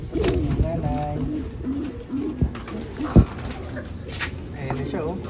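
Pigeons coo softly at a nest where eggs are hatching, with low throaty calls repeating among a few sharp knocks and handling noises, and people talking nearby.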